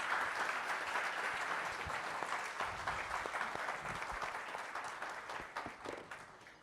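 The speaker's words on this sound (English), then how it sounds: "So can we have a big round of applause?" An audience at a hotel industry event gives a big round of applause, thick continuous clapping that slowly thins and fades toward the end.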